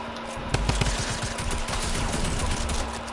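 Rapid machine gun fire in a video game crackles in dense repeated bursts over a steady din, loud and close, with heavier shots punching through now and then.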